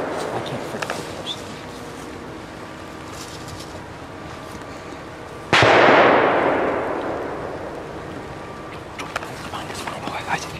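A single loud rifle shot cracks out during a deer hunt in Pennsylvania rifle season, its boom rolling off and fading over several seconds through quiet outdoor background.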